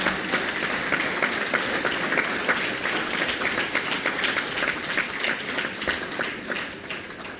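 An audience at a formal ophthalmology lecture event gives sustained, dense applause for the AIOS president, the clapping steady and loud throughout before tapering slightly at the end.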